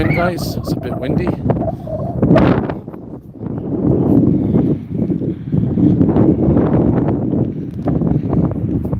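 Outdoor wind buffeting a microphone during a lunchtime walk in Montreal, Canada, loud low rumbling gusts that surge and drop repeatedly, with a person talking over the roar.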